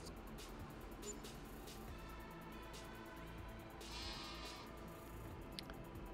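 Sheep bleat in the Farming Simulator 22 video game, a few wavering cries over a low steady engine-like drone from a game vehicle, with no one talking.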